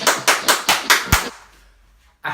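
Five sharp hand claps in an even, quick rhythm, loud and close, followed by a short silence before another sound starts.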